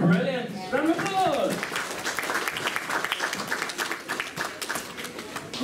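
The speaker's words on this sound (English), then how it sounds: "brilliant! Round of applause!" Audience applause and cheering at a comic con cosplay contest, starting under a speaking voice and continuing as a sustained, fairly loud wash of clapping.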